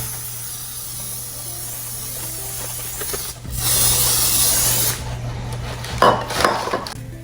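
Cooking spray hisses in one steady burst of about a second and a half into two parchment-lined cake pans, followed by light clatter of the pans in a home kitchen.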